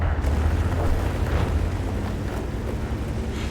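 A tank's gun fires and the shell strikes the ground in a tank video game, leaving a loud, continuous, low explosive rumble that holds steady for several seconds with no talk.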